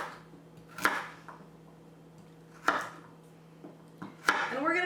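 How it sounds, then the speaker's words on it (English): Knife chopping through peeled, cubed squash on a board, a few loud separate thuds spaced a second or more apart, close up, with faint background noise. "I'm going to chop this up"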